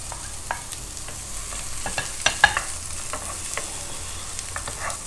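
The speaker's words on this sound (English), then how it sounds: "for few seconds I'll saute my carrot" Carrots sauteing in a pan with garlic and onions, giving a steady low sizzle broken by light scattered clicks and scrapes of a utensil, close and fairly quiet with no voices.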